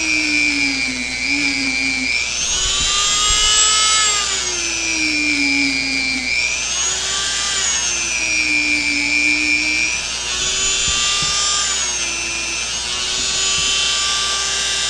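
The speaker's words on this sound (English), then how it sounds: "So in comes the Dremel. I put a little wire brush on it." A Dremel rotary tool fitted with a small wire brush whines at high speed as it sands excess super glue off a Squier Bullet Stratocaster, its pitch dipping and rising under load, close and continuous.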